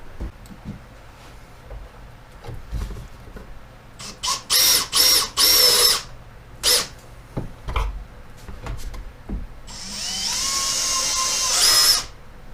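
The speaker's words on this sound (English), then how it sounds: "That's all I'm going to do is drill pocket holes the whole way down." A power drill drilling pocket holes whirs in several short bursts, then runs in one longer sustained stretch, close by with clicks and handling noise between.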